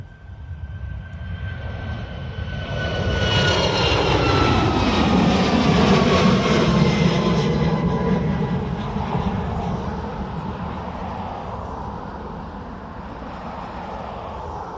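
A WestJet airliner departing Dublin Airport for Toronto, its engines swelling into a loud, broad roar that peaks midway and then slowly recedes into a steady distant rumble.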